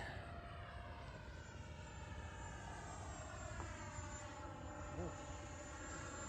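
A Fly Fans 64mm L-39 electric ducted-fan RC jet makes a pass at sunset, a steady loud whooshing whine that holds throughout with slight pitch changes as it flies by.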